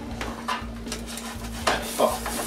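An omelet with cheese slices gets flipped in a frying pan: a few soft scrapes and knocks of the utensil against the pan, with a sharper clatter near the end, over a faint steady hum.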